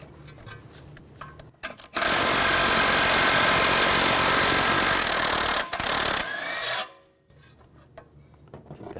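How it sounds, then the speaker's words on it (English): A loud, steady power tool drives a 21mm socket to remove a nut on the front tie rod of a 2006-2010 BMW 550i, running about four seconds with a brief break, then stopping into quieter workshop sounds. "Using a 21mm socket, we're going to take this nut off."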